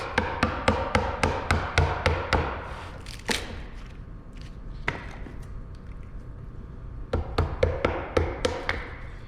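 A chisel chips cured black epoxy away from a walnut workpiece in a series of sharp, close taps, fast bursts of hits with a short pause in the middle, then another rapid run of strikes.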